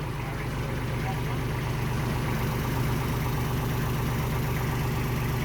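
A steady, low tractor engine idles continuously, a deep rumbling drone with even vibration throughout, under faint background voices.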